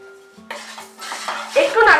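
A spoon stirs chili powder, salt and sugar in a pan over medium heat for a sattu kachori filling, giving a few close metallic clinks and scrapes that build to a louder stir.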